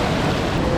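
Gentle sea waves wash ashore at Halkidiki, Greece, a soft continuous surf rush blended with breezy wind noise, brief and steady, with no voices.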